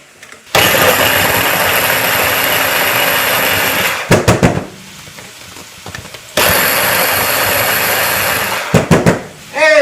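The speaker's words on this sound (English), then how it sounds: "So I use my handy dandy chopper here that I seem to always have." Two long bursts of a loud electric food chopper chopping onion at close range, each running several seconds before cutting off, with brief rattling pauses between them.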